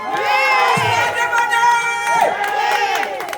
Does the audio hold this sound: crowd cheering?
yes